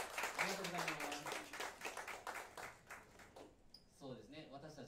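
Audience clapping for a saxophonist at a small live concert, a brisk burst of applause mixed with talking that fades after a few seconds before a voice carries on alone.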